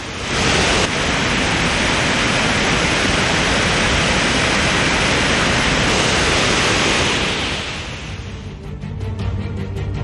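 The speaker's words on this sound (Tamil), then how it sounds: "மேகமலை வனப்பகுதிகளில் பெய்து வரும் கனமழையால் சுருளி அருவியில் வெள்ளப்பெருக்கு ஏற்பட்டுள்ளது" Suruli waterfall in flood after heavy rain on the Meghamalai forest hills, a loud, dense, continuous roar of rushing water that eases slightly near the end.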